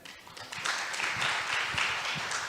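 An audience at a regional health forum claps for a couple of seconds, a dense, moderately loud patter of many hands.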